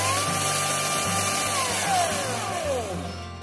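A RYOBI 36V RCS36X4 cordless brushless chainsaw runs with a steady electric motor whine. The whine shifts in pitch as it revs and winds down, moderately loud, with no speech.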